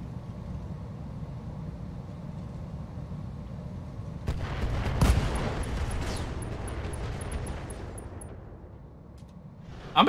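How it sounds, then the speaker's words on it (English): Mech weapons fire in Roguetech with a low rumbling barrage, then a sharp blast from a core explosion about halfway through, followed by sustained crackling and a final loud hit at the end. "And we got a core explosion."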